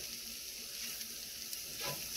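A roux of flour and butter sizzles and fries steadily in a pan, a continuous soft crackle close to the mic with no voices.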